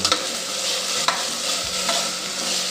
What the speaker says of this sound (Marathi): आपण सर्व छान तेलात परतून घेऊ।